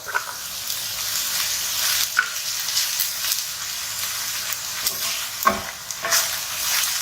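A minced meat mixture with green chilies and coriander fries in a pan, giving a steady, close sizzle with occasional scraping and stirring clatters.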